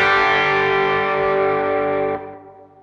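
One distorted electric guitar chord, played through a hand-wired overdrive pedal with the drive raised, rings loud and sustained, then is muted after about two seconds and dies away.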